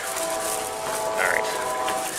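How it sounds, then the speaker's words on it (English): A train rolls past near a MotoMart gas station, a broad rumbling wash with faint tonal whistle-like lines, heard at a middle distance with no speech over it. "there goes the train"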